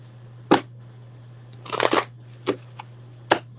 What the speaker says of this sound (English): let's get that shuffle up